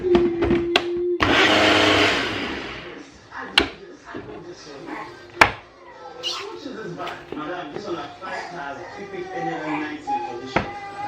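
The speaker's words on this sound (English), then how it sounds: "So the yam and the tomatoes are ready. I'm just going to blend it as we did the others." A blender purees cooked yam and tomatoes for baby food in a short loud whir near the start, followed by clattering, knocks and a cat meowing nearby.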